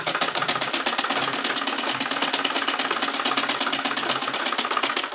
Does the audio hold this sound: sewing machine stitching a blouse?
yes